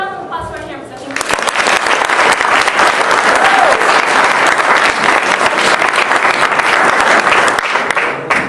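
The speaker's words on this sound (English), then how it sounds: "Let's give a round of applause for our campers." Loud, sustained applause from an audience cheering campers at a closing ceremony, a dense wash of clapping that swells after a brief lead-in and holds steady for several seconds.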